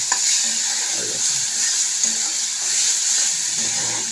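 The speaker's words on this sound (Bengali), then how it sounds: "এবার টমেটোর যে জলটা, এটা দিয়েই নারকেল গুঁড়োটা সুন্দর ভাজা ভাজা হয়ে যাবে।" Coconut powder fries with grated tomato and its juice in a pan, giving a loud continuous hiss and sizzle with occasional soft stirring scrapes throughout.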